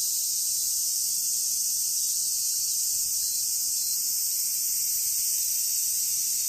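Japanese cicadas singing in trees, a steady high-pitched buzzing drone that holds unbroken and loud throughout, with no voices.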